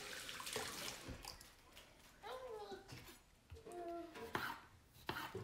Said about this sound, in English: Wash my hands here.